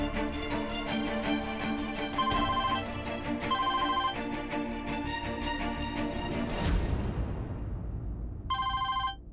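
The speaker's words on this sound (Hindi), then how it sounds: "काम के वक्त आपका फोन बज रहा है।" Mobile phone ringing in a workplace, a loud electronic ringtone melody of repeated tonal bursts that plays for several seconds, sweeps off, then briefly sounds again.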